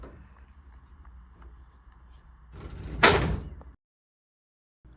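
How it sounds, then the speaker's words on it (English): A cabinet door at a thrift shop swings shut in one loud, short thud after some shuffling and a soft sliding rub, and then everything goes silent. "let me close this door."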